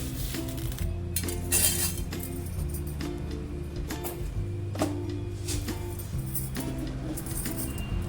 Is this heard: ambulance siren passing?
no